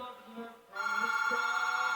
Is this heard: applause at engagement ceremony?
no